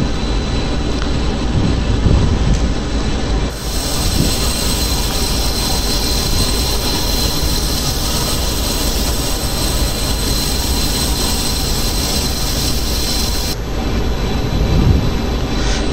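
MiG-21 Bison jet engine at full takeoff power in a flight simulator game, a loud steady roar that swells sharply after a few seconds and holds broad and constant, easing slightly near the end.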